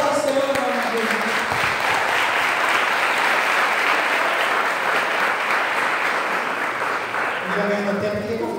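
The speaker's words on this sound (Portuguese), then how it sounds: "Aplauda o Senhor em nome de Jesus" Congregation-style applause during a theology and preaching course, a thick, continuous roar of many hands clapping that holds strong for several seconds, with a voice speaking at the start and again as it ends.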